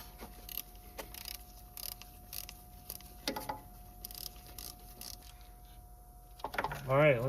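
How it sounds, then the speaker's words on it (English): Bolts are threaded by hand into a new water pump on a 2011-2015 Chevy Cruze 1.4T during a repair. Soft metallic clicks and brief scrapes come from close by, and a short voice is heard at the end. "We'll get these bolts started in here."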